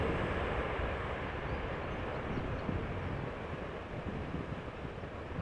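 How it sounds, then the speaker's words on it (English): KLM Airbus A330-300 jet departing Amsterdam Schiphol in strong crosswind, a steady broadband engine roar with gusting wind noise, moderately distant and constant throughout. "KLM flight 661, Airbus A330-300 going to Houston, Texas."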